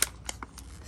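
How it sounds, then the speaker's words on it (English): Scissors snip through a plastic seedling container while pepper seedlings are being repotted, heard as a few quick, faint close clicks and cuts, with no voices. "Just gonna get my scissors, cut this like so."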